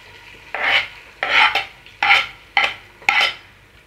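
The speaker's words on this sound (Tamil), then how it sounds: "இந்த தக்காளி பேஸ்ட் நல்லா பச்சை வாட போற வரைக்கும் வதக்கி விட்டுட்டே இருங்க" Tomato paste and mint are stirred and sautéed in a pan for Kashmiri chicken biryani: five rhythmic scraping, rasping strokes of a spoon against the pan over a low background sizzle.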